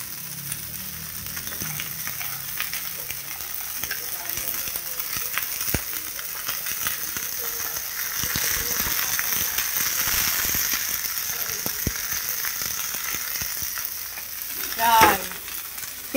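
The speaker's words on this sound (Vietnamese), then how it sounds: "Trong cái món xào đậu với đậu hũ thì hôm nay mình sẽ xào đậu que cùng với đậu hũ chiên." Green beans and fried tofu stir-fry in a pan with a continuous sizzle, repeated clinks and scrapes of a utensil against the metal, and a sharper clatter near the end.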